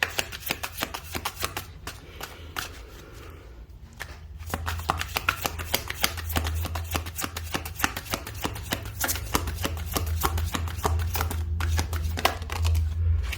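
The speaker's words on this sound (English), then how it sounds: "I'm going to just pull a clarification card for Justice." Tarot cards being shuffled in repeated rapid riffling bursts, crisp papery flutters and taps close to the listener, with a low hum underneath and no talking.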